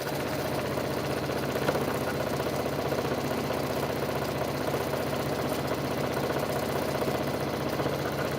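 A steady mechanical rumble of an idling engine drones on without a break, with faint rhythmic knocking underneath, as heavy machinery cleans a school parking lot nearby.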